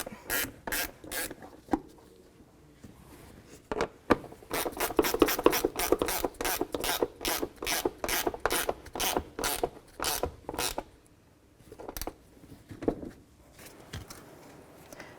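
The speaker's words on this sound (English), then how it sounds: "10mm wrench or socket. Just snug them up." A ratchet wrench with a 10mm socket snugs the water pump bolts on a 1997-2004 Dodge Dakota, making rapid, close mechanical clicking in repeated bursts with short pauses between strokes.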